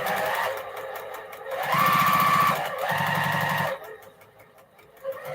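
Sewing machine running in bursts while stitching a crumb quilt, its steady motor whir and rapid needle clatter close and fairly loud, pausing briefly between runs before stopping near the end.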